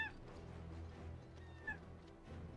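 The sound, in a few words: cat meowing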